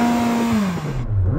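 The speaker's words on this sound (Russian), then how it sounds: "Поддам оборотов на Макларене." A McLaren 600LT engine is revved hard in a rising and falling run, loud and close, with a deep roaring note and a brief dip before climbing again.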